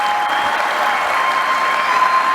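Sustained applause from a conference keynote audience, a dense, steady wash of clapping at even loudness throughout with no break.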